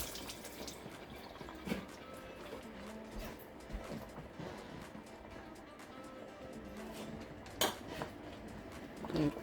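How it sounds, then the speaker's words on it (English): Hands being washed under a running kitchen tap while cooking peanut butter vegetables, a steady water stream with occasional clinks of dishes and cutlery nearby. "Let me just wash my hands quickly."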